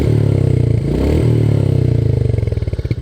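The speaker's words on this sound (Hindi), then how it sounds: "ये रहा बाइक का एग्जॉस्ट नोट।" Royal Enfield Meteor 350 motorcycle with its stock exhaust, a steady deep thumping idle note held close and loud, then a blip of revs near the end that breaks into distinct single-cylinder pulses.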